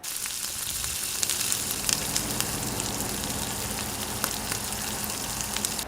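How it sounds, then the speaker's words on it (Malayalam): Finely chopped onions (two medium) sautéing in hot oil while making chicken tikka pola, a steady close sizzle with small crackles and pops throughout, fairly quiet and with no voices. "ഈ സവാള നന്നായിട്ടൊന്ന് വയറ്റിയെടുക്കുക"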